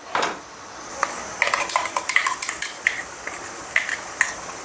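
A metal spoon scrapes and clinks against a cooking pan while spice paste of coconut, cashews, tomato, coriander and cumin is stirred in for a mushroom curry, with irregular close taps and scrapes over faint sizzling.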